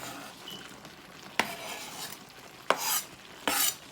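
Sausages being folded into a homemade tomato sauce in a pan for halal sausage and pea spaghetti, with a low sizzle throughout and three sharp clatters of utensil against pan as they are stirred.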